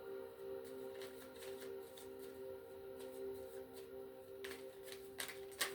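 Tarot cards being shuffled by hand, a faint, continuous riffling and flicking that comes in repeated soft bursts over a low steady hum, getting a little louder toward the end, with no voices.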